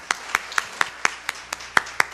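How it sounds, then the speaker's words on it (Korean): Rhythmic clapping at a church mothers' prayer meeting welcoming a speaker to the stage: nine crisp, evenly spaced claps, moderately faint, over a quiet room with no talking. "우리 단 앞으로 모실 때 큰 박수로 인사를 대신하도록 하겠습니다"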